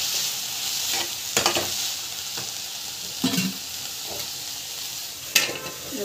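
Vegetables sautéing in oil in a pan give a steady, close sizzle, broken every second or two by the scrape and clack of a spoon stirring them.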